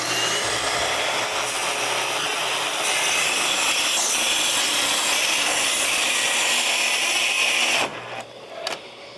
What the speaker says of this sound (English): when you are cutting into hardwoods like this, you always want to start your blade outside of the wood